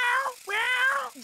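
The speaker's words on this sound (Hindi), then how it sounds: "हे काली बिल्ली" A cat in an animated Hindi-dubbed cartoon gives two clear, drawn-out meows, close and loud, the second longer and rising, with a short sound at the very end.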